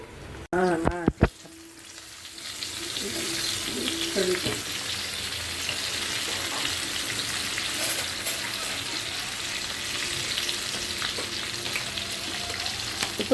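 Chanduva (pomfret) fish frying in oil, seasoned with salt and chili powder: a short clatter of handling at the start, then a steady, close, even sizzle that continues without pause to the end.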